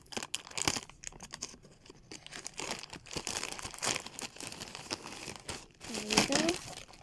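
Crinkly plastic and paper packaging of an album being unwrapped up close, with continuous rustling, crumpling and brief tearing, and a faint voice at times underneath.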